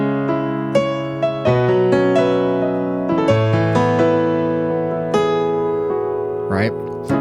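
Piano plays simple chords, some rolled, each struck and left to ring in a slow sustained progression, close and clear with no talking.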